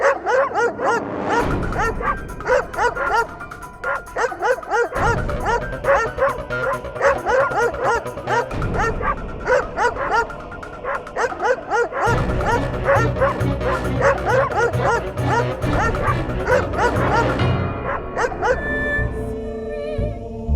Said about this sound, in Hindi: कुत्तों का भौंकना बंद, योर ऑनर।